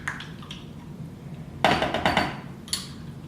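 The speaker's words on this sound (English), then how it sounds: "Mix it up a little bit." A spoon stirs sun-dried tomato pesto into meatball soup with spinach in a pot: a short flurry of clattering knocks and scrapes midway through, then one more knock, over a quiet kitchen background.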